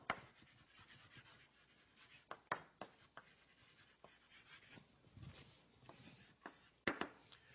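Scratchy strokes of writing on a board in a circuits and electronics lecture hall, faint and close, with sharp taps and squeaks scattered among the continuous scraping and no speech.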